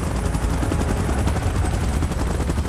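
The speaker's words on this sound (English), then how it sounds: "Chopper in position." A helicopter in the video game PUBG Mobile thrums loudly and close, its rapid rotor chop steady and continuous with a dense mechanical roar.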